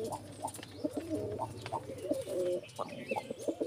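Racing pigeons coo repeatedly in soft, throaty, rolling phrases, close by, with a few faint chirps and background rustle and no talk.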